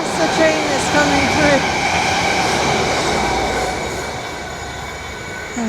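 A loud fast train rushes through a station close by, its broad rumble and rattling wheels filling the air, with high metallic squeals rising over the steady roar.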